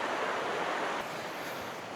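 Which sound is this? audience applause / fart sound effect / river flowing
river flowing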